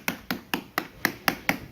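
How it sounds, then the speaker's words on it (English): A hammer taps around a mold on a cast concrete atlas stone: seven crisp, evenly spaced strikes in quick succession, close and fairly loud, each with a bright, short ring. "I'll take my hammer and tap all the way around"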